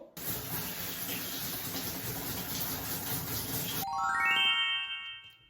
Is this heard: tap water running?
yes